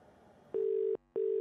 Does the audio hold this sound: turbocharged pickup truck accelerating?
no